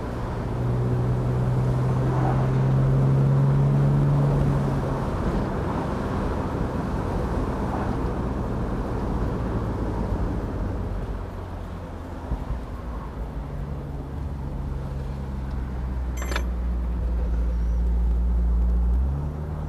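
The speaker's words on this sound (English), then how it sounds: "It drives nice and straight going down the road." A 1971 Mercedes-Benz 280SL Pagoda cruises down the road. Steady road and engine drone fills the cabin, swelling gently and easing at times, with no talking.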